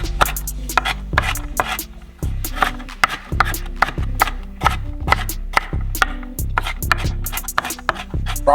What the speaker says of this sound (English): You guys chop up your veggies to your preference.